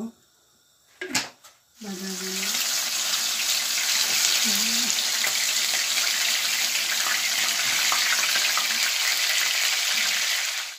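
Oil poured into a hot pan for frying breaks into a loud, continuous hiss right after a brief voice and a few clatters, then keeps an even, close sizzle throughout, with a short spoken phrase early on.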